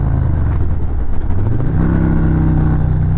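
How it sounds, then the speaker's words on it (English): A Harley-Davidson Road Glide motorcycle engine braking as it decelerates, giving a loud, close, throaty exhaust rumble with an uneven burbling pulse whose pitch slides and then steadies. "I love the way that thing sounds when it decels."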